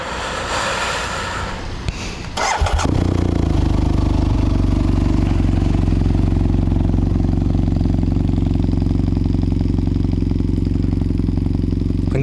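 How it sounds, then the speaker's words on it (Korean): A BMW F800GT motorcycle engine cranks and fires after a short stretch of outdoor ambience, then settles into a loud, steady, close-up idle that throbs evenly to the end. "제가 시동 소리를 한번 다시 들려드릴게요"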